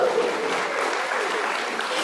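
A church congregation at a Sunday service applauds, a continuous dense patter of many hands clapping at even strength from start to finish, fairly close and with no break.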